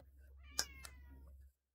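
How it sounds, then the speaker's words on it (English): A cat gives one loud, sharp meow up close followed by a shorter, fainter second call, over a low steady hum that cuts off at the end. "Loud cat."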